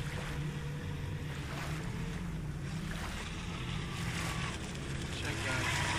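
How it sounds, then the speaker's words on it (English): A Wltoys WL913 radio-controlled boat's brushless motor, running on a 4S lipo battery, hums over water, with splashing and wind buffeting the microphone; the drone stays steady for several seconds. "Brushless boat, brushless motor."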